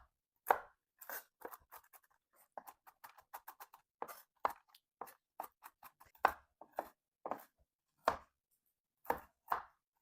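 Cookie ingredients being roughly chopped with a knife on a board, a run of crisp, irregular close-up cuts that cluster and pause across the clip, with no talk.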